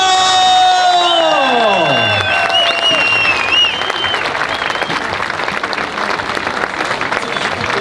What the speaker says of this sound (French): Les amis, s'il vous plaît, des applaudissements pour l'inspiration de toute une génération de crossfitters en France, Johan Gigot!